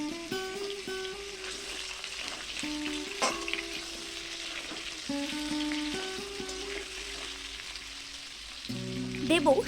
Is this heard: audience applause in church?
no